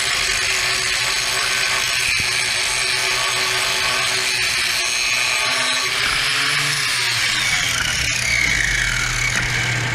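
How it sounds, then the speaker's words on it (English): A power grinder works steadily on metal farm equipment during welding prep, a continuous close, loud harsh whine with a rising scrape toward the end and no talking. "Very tricky grind."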